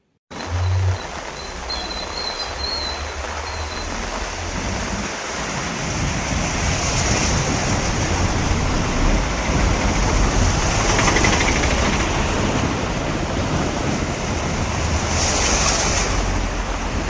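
Knee-deep floodwater on the waterlogged streets of Sayajiganj, Vadodara, makes a loud, steady rushing wash that never lets up, with wind buffeting the microphone on top.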